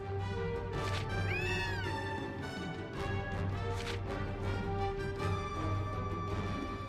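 A cat meows in the video game Gravity Rush, a short rising-and-falling cry heard over steady, droning game music and background tones.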